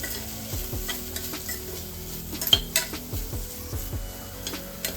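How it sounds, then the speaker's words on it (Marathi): Red chilli powder, turmeric and garam masala sauté in hot oil in a pan, with a steady soft sizzle under repeated scraping and clinking strokes of a metal spoon against the pan, close and fairly quiet, no talk. "लाल तिखट, थोडीशी हळद, गरम मसाला असतो तुमचा। आता या परतून घ्यायचा आधी।"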